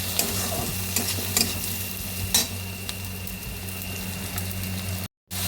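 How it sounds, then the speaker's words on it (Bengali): Spices with salt, chilli, turmeric and Kashmiri red chilli are stir-fried in a pan, giving a continuous close sizzle with scattered scraping stirs and a brief dropout near the end. "দিয়ে ভালোভাবে এবারে মশলাকে মাখিয়ে সুন্দরভাবে কষিয়ে নিচ্ছি।"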